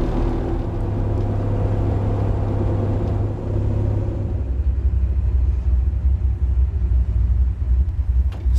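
A car engine idles steadily after a carburetor idle adjustment, a loud, close, continuous low rumble that roughens slightly partway through, with no voices.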